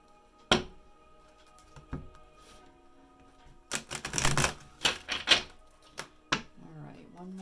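A quick, rustling riffle of tarot cards bursts out for about a second, framed by scattered taps and soft thuds on a table.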